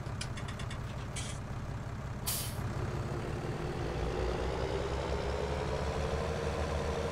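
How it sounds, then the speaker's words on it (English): A tractor engine in the farming game Farming Simulator 19 runs under heavy load, a continuous low idling rumble with a brief air-brake hiss and a few short beeps early on. "Heavy load for this poor little tractor."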